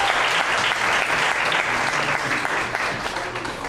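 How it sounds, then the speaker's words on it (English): Audience at a regional competition applauds the contestants, a dense, even wash of clapping that stays loud and steady for a few seconds. "Give them all a round of applause,"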